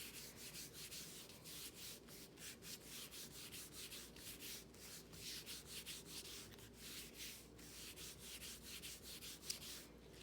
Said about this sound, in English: you rub and add some pressure, and you rub until you think you've rubbed all around the Gelli plate.